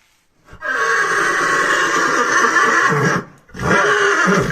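A French Ardennes horse neighs loudly and close, a long whinny that breaks off, then a second neigh follows after a brief pause.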